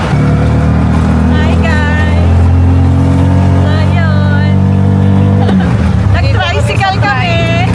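Motorized tricycle ride in the Philippines, a steady loud engine drone running throughout with people talking over it.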